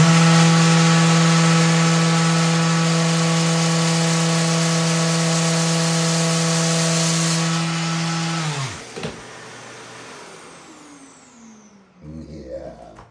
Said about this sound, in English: I need to sand this off just a hair.